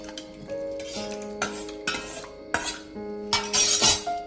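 A spoon scoops thick set curd for lassi from one bowl into another, giving soft scraping strokes and light metallic clinks at a steady rhythm, close up with no talk.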